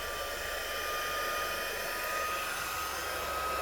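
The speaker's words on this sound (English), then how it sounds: "Your heat tool, warm it up a little bit." An embossing heat gun warming up, giving a steady, even blowing whoosh like a hair dryer that holds constant throughout, close and moderately quiet, with no voices.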